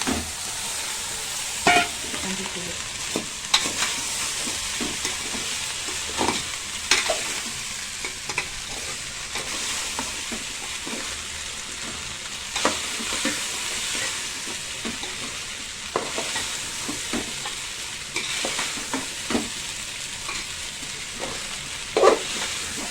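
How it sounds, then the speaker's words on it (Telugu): Strained maize pieces fry in an oil tempering with turmeric, giving a continuous bright sizzle with repeated stirring scrapes and taps, heard close with no voices. "ఇప్పుడు మనం వడగట్టుకున్న ఇవి మక్క కూడలు కూడా వేసేస్తున్నా"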